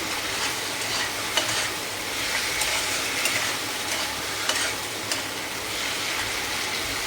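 Chicken fries with garlic and green chilli in a pan, giving a loud continuous sizzle like hissing rain. A utensil stirs it with occasional soft scrapes and taps, and there is no talking.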